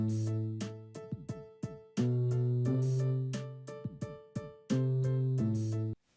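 Gritty, overdriven bass guitar notes sustain under a loud drum and keyboard groove, with crisp cymbal hits punctuating the rhythm before an abrupt stop.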